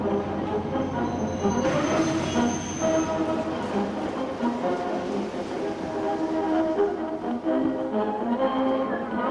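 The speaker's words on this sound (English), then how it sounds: "上次列车开过来了，请工作同志到站台接车。" A train arrives at Shaoshan Station with a steady rolling rumble of wheels and carriages, a faint high squeal and a continuous mechanical drone, fairly close and unbroken throughout.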